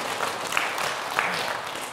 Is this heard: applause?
yes